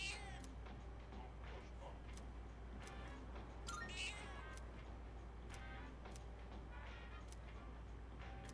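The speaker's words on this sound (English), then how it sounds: "That's a cat." A cat meows in Persona 3 Reload, several short calls scattered over a steady low game-music hum, with light ticking sounds between them.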